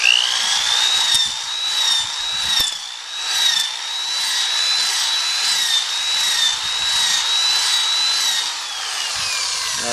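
A Denker rotary carver cuts into an unclamped log with a steady, high whine that wavers slightly in pitch, continuous and close throughout.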